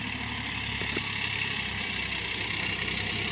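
Steady engine drone from a Sonalika 50 power-steering tractor working a field, with a continuous low, even hum, fairly faint and unbroken and without any voices.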